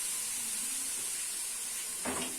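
A pressure cooker of chickpeas on a gas stove gives off a faint, steady steam hiss, with a brief louder burst of hissing near the end.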